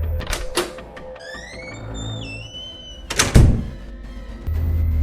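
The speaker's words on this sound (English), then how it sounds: "The storm door is closing." A storm door swings shut with a soft whoosh, then a thunk and click as it settles against the frame, set among other faint household sounds with no voices.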